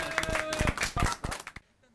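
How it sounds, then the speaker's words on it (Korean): An audience claps in a short run of distinct, fairly loud hand claps with a voice speaking over them, and the claps break off abruptly into near silence. "박수 한번 쳐주십시오"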